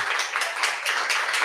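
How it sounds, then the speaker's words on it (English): Audience applause at a Nerd Nite talk evening in Okinawa, a short burst of many hands clapping together, fairly close and even, with no voices over it. "can I ask just for a round of applause for our staff back there for just taking care of the food"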